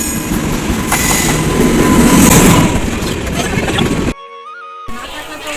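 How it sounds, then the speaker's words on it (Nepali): A passenger train rumbles and clatters loudly from inside a carriage, with steady wheel noise and rail clicks, then the sound cuts out briefly before resuming. "अब हामी ट्रेनमा पनि चढिसक्यौँ"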